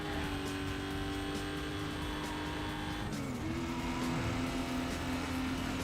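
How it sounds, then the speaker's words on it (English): A sports car engine in Need for Speed: Most Wanted drones steadily, its pitch dropping sharply then rising again midway, like a gear shift, with a faint tire-squeal quality throughout. "I don't really like this car sound"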